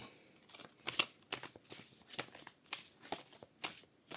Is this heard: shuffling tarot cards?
yes